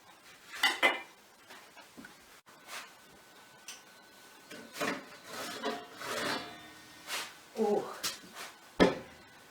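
Dishes, plates and cutlery clatter and clink as a table is laid for a Valentine's supper, with scattered close knocks and rattles of varying loudness separated by brief pauses.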